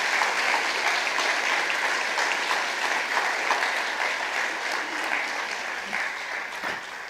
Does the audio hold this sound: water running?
no